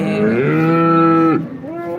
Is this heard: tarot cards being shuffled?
no